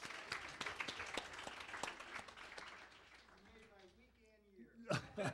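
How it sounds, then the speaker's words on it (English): Scattered clapping at a poetry reading, with audience members clapping in an uneven rhythm for about three seconds. It fades under quiet murmuring, and a voice starts up at the end. "An applause."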